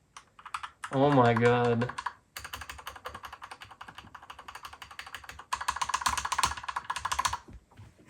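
Fast typing on a Royal Kludge RK98 mechanical keyboard, with dense, crisp, close clicks in bursts. A voice speaks briefly before the typing starts.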